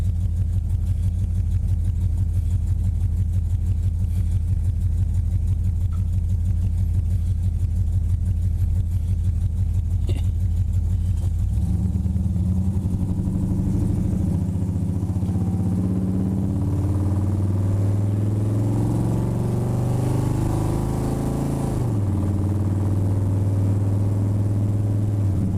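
A 1949 Shoebox car fitted with electric power steering drives along, its engine giving a steady low rumble that swells and shifts pitch partway through as it picks up speed, with no voices.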